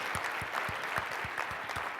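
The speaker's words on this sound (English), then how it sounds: "Give yourselves a round of applause" An audience in a room applauds itself, a dense steady wash of many hands clapping together, even and sustained at moderate volume with faint low thumps underneath and no clear voices.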